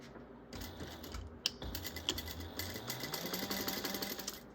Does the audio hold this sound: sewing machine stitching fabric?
yes